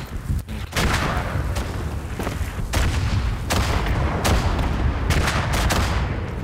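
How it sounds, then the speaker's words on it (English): Artillery fire in the WWI shooter Verdun: a dense, loud barrage of booming blasts and sharp cracks, with heavy impacts landing every second or so over a constant rumbling din. "Artillery. Of course, I'm right in a freaking fire of it."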